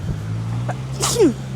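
A single sharp sneeze bursts out over a steady engine hum, as if heard inside a moving car.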